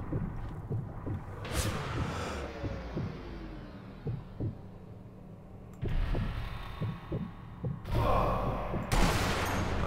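Automatic weapon fire in Sniper Elite V2 at a Karlhorst command post, rapid thudding shots in short bursts amid heavy low rumbling, with a few louder sharp blasts near the end.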